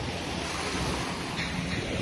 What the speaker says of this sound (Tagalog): Walang tigil ang alon at lakas ng hangin.